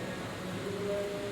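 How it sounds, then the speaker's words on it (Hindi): Steady morning rain falling in a town, a constant dense hiss with no distinct drops, alone and unbroken throughout. "बारिश तेज़ होती जा रही है"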